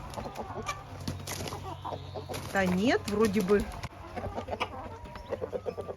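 Farmyard chickens and a rooster clucking in an outdoor enclosure, with a short rising crow-like call in the middle, while someone talks over the birds.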